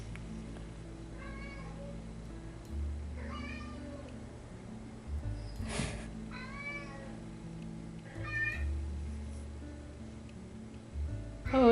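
A pet cat meows several times in a quiet room, short rising calls spaced a few seconds apart, moderately close, with a steady low hum underneath and no talking.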